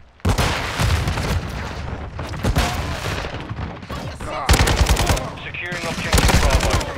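Loud, dense video game gunfire rattles almost without pause during a team objective match, with bursts of automatic fire and heavy booms close by. Radio-style voice callouts sound faintly beneath the shooting.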